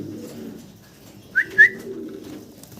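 Soft, low pigeon cooing rolls along quietly, broken by two short, higher chirps near the middle.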